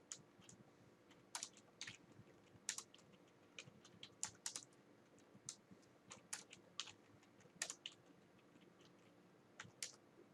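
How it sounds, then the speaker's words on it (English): Quiet, irregular clicking of keys on a computer keyboard, typed in short bursts with brief pauses, close by. "I want you to see what I'm typing"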